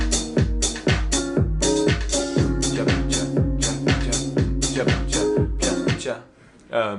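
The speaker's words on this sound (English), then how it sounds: "so those are the drums" A programmed house drum beat thumps along in a steady four-on-the-floor pattern, punchy kicks and bright hats and claps repeating evenly and loud, then briefly dropping out near the end.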